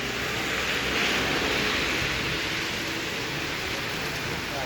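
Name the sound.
heavy rain falling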